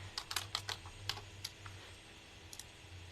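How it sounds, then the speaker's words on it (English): Quick bursts of keystrokes on a computer keyboard as a name is typed into a search, close and fairly quiet clicks clustered early, then sparser taps with pauses. "we're likely to find them just by typing in their name"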